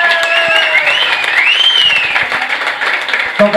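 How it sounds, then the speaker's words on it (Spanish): Audience applause breaks out at a live band concert for a keyboardist making his debut, with steady dense clapping and some crowd noise while sustained keyboard or music tones ring over it. "¡Un fuerte aplauso para él!"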